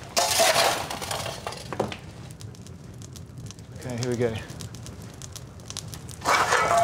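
Coal shovelled into the firebox of the boiler on the world's oldest working beam engine: scraping, clinking metal scoops and rattling coal against a roaring fire, with people talking nearby.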